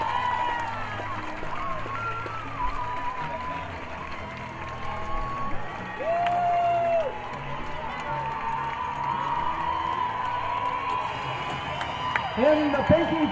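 A crowd along a parade route applauds and cheers a little league team as it passes, steady clapping and crowd noise under an announcer's amplified voice, with a brief burst of whoops near the end.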